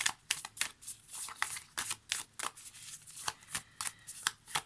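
Oracle cards are shuffled for a tarot reading in a quick, irregular run of crisp riffling flicks, close and soft, with brief pauses between bursts and no talking.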